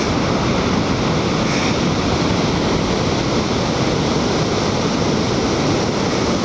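Ocean surf rolls continuously onto the beach at Sendai Newport, a broad, steady wash of breaking waves with some wind noise over the microphone, with no voices.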